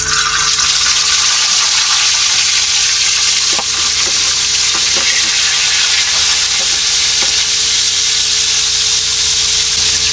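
Milkfish (bangus) fries in a pan with steady, loud, dense sizzling and crackling oil that continues without pause, with occasional faint clinks and pops on top.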